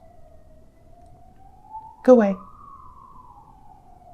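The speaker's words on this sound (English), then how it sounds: "There's a siren." A siren passes outside with a single long wailing tone that slowly rises and then falls away, heard at a moderate distance. A voice briefly speaks over it partway through.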